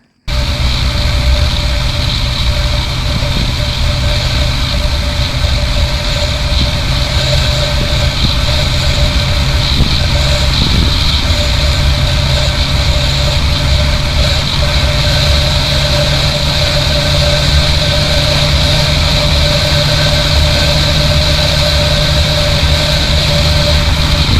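A Yamaha R15M motorcycle's SOHC engine runs steadily close by, a loud, even droning hum with a constant low tone and no noticeable revving for the whole stretch.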